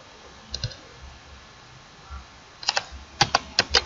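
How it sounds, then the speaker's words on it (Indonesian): Typing on a computer keyboard, a few isolated key clicks early, then a quick close burst of keystrokes near the end, otherwise quiet. "Kita akan ketikkan di sini"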